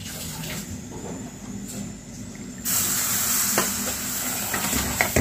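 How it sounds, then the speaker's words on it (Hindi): Vegetables frying in a pan on a gas stove while being stirred constantly and splashed with water, a loud close hiss and sizzle that swells sharply halfway through as the water hits, with scraping stir sounds. "पानी रख लीजिए और फिर उसके छींटे देते जाइए और उसको चलाते जाइए लगातार"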